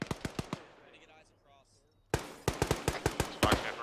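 In the ArmA 3 military shooter, a rapid series of sharp gunshots cracks close by in bursts, then a short lull filled with faint distant chatter, then another dense volley of loud shots.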